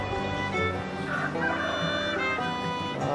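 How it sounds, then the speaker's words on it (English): Backyard chickens cluck in a busy, overlapping chorus close by, and a rooster crows once amid them. "Got to check on these chickens this morning."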